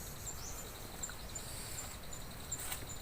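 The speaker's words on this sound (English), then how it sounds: "So the music of the forest, the sound of the bird and insects." Cold dark early morning in a forest at a bushcraft camp, with faint high bird chirps and insect calls repeating over a steady low background hiss.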